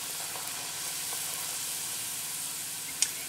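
Bengali luchi flatbread deep-frying in hot oil gives a steady, close hiss and sizzle throughout, with a faint tap near the end.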